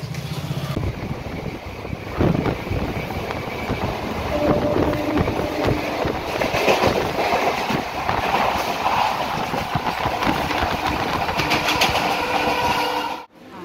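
A train rumbles through a railway station, a continuous loud rolling clatter with brief higher squeals, building after a softer opening and cutting off abruptly at the end.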